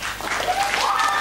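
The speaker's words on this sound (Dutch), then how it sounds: "Applaus." Applause from an audience at a youth comedy performance, a steady dense clapping throughout with a faint whistle-like tone over it.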